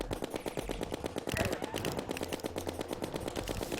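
Terraria gameplay with a gun firing bullets in a fast continuous stream, loud rattling shots over busy game effects and music, no talking.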